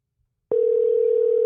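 A steady single-pitch telephone ringing tone on an outgoing call starts abruptly after a brief silence and holds loud and unbroken to the end.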